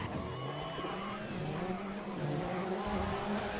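A race car in the racing video game Grid skids under the handbrake, with tire squeal wavering over a steady engine drone for several seconds, loud and continuous, with no talk.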